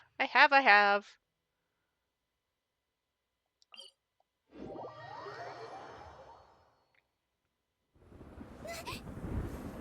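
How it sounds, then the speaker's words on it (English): Thunder rumbling in the Genshin Impact video game, a low broad roll rising from about 4.5 s and fading near 7 s, followed by another heavier crash near 8 s, after a brief sung or voiced tone at the start. "Without lightning to give warning, the sound of thunder is quite startling."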